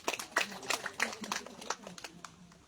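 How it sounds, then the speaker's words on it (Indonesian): An audience claps for a church choir at a Catholic gathering, a scattered round of hand claps that thins out and fades over a few seconds, with faint talk beneath. "Jadi kita tepuk tangan untuk mereka dulu."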